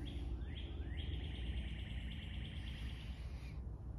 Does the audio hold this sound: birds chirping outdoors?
yes